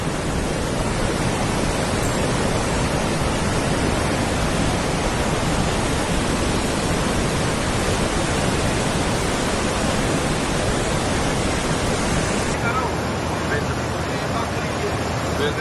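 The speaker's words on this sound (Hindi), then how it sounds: "पानी का बहाव इतना तेज है कि वो अपने साथ भारी से भारी चीज को तिनके की तरह बहा दे रही है।" The flooded Beas river in Himachal Pradesh rushes past as a loud, dense roar of churning water, constant and close throughout, with faint voices mixed beneath the torrent.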